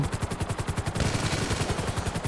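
Rapid bursts of automatic gunfire in GTA V rattle in a fast, even rhythm, loud and continuous, with a sharper, denser stretch in the middle.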